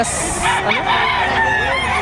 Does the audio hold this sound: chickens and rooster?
yes